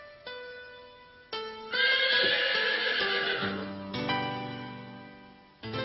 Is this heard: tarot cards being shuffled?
no